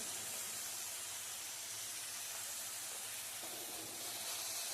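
Turmeric and spice masala roasting in hot oil with tomatoes in a pan, a steady broad sizzling hiss, constant and alone.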